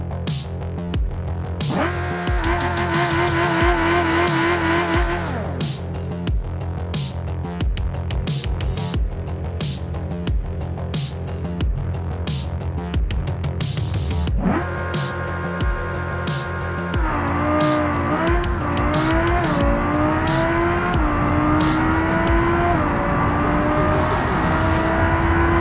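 A Civetta Scintilla GT base model on 20-inch rims drag races down the strip, its engine droning loud and steady, then climbing through rising gear pulls with strong revving and no talk.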